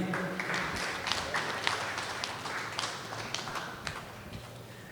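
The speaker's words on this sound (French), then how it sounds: "Sous vos applaudissements" Steady applause from a crowd, dense and continuous with scattered sharper claps, fairly distant and even throughout.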